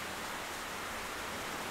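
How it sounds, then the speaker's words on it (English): Steady, dense rain and storm noise from the video game Octopath Traveler II, a constant broadband wash that holds evenly throughout with no voices. "Rain! Storm!"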